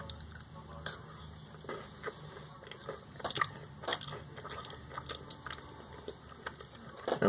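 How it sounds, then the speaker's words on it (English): Someone biting and chewing a Twix caramel chocolate bar, soft close crunches and sticky chewing clicks scattered through the clip, faint and intimate. "Now I'll just bite like a new one just in case."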